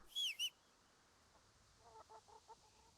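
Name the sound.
chickens clucking in the video game Kingdom Come: Deliverance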